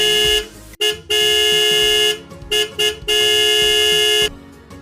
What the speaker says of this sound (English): Car horn.